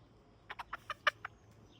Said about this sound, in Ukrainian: Саме розумний півник.